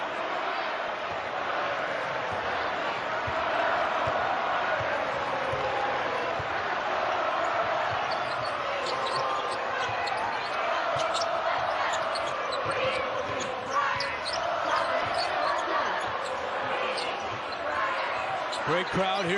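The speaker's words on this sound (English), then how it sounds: "You can hear him chanting, "Let's go Friars,"" A college basketball arena crowd at a Villanova vs Providence game chants "Let's go Friars," a sustained loud roar with sneaker squeaks and bounces, and a commentator talks over it.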